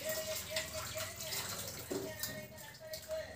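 Ingredients for a green pepper chicken curry, such as garlic, are rinsed in water, with steady splashing and trickling as they are swished around in a bowl, while a person talks over the washing.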